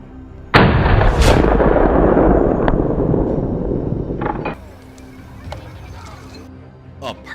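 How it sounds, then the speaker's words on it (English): Loud, close gunshot fired at a wild boar on a farm, a sharp blast with a long rumbling echo that decays over a few seconds, followed by quieter ambient outdoor sound and faint narration. "A perfectly executed shot, swiftly eliminating the lurking threat in the area."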